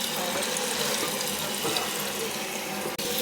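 Toilet tank refilling after a new fill valve was installed, a steady close rushing of running water with no pauses, cutting off abruptly for a moment near the end.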